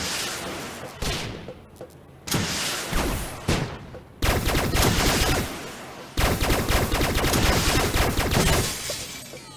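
A gun turret in the video game Starbound fires at enemies in dense, loud rattling bursts, split by short pauses and sharp impacts, close and unbroken by any talking.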